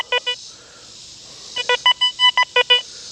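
Several short beeping tones from an XP Deus 2 metal detector with FMF and HF2 coils, sounding a low target tone over a nickel: a brief pair of beeps, a pause, then a rapid burst of repeated tones.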